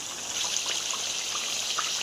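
Water from a glass is poured into a pan of chicken karahi, making a steady, close hissing and trickling pour that lasts about two seconds without any talking.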